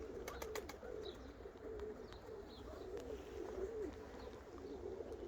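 Soft pigeon coos repeat low and steady over a murmuring outdoor background, with a few faint bird chirps higher up.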